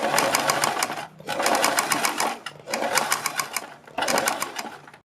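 A sewing machine stitches a strip onto a kurti neck in four fast bursts of rapid clattering needle strokes, separated by short pauses, close and fairly loud.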